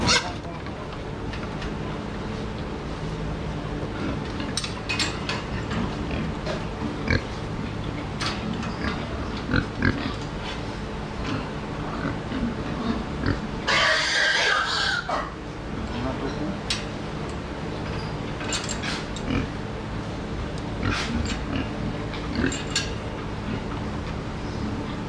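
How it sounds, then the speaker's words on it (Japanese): Pigs in a pig shed during plumbing work grunt and snuffle close by in a busy, continuous stream, with clattering and shuffling around them and a brief burst of rushing noise partway through. "この邪魔してる豚を見るか。"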